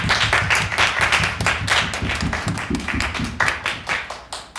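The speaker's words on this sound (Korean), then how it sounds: "우리 한 번 더 서로에게 박수 한번 쳐봅시다" A church congregation applauds one another at a Korean worship service, a steady roll of many close hand claps lasting the whole stretch with no talking.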